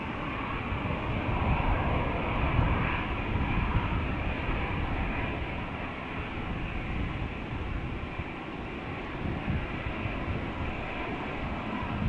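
Jet airliners, an EasyJet and a Norwegian, departing Amsterdam Schiphol, give a loud, steady broadband engine roar that holds for the whole stretch with no voices.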